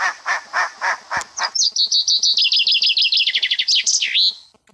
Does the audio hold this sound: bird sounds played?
yes